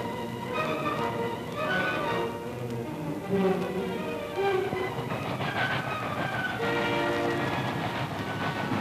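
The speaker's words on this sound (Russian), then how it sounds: "Подходят последние поезда." Military supply trains rumble steadily into forest positions while horn-like tones sound repeatedly, loud and continuous, with a rolling clatter of wheels underneath.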